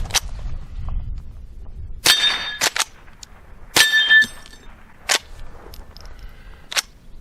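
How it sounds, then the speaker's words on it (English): A .22 pump-action rifle fires .22 short and .22 long rifle rounds at steel plates outdoors, several sharp cracks spaced a second or so apart, some followed by a ringing metallic clang. "I'm going to shoot that plate on the left with a 22 short and the plate on the right with a long rifle"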